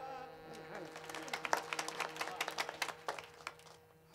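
Scattered audience clapping during a Varkari kirtan, starting sparse and building into a quick, uneven patter of hand claps that fades toward the end, fairly faint with a soft background hum.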